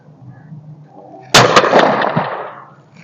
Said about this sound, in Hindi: ये अब हमने 2 शॉट्स लिए